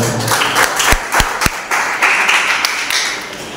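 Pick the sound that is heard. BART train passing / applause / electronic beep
applause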